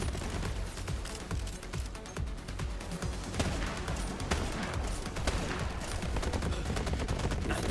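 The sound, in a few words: gunfire in video game Borderlands 3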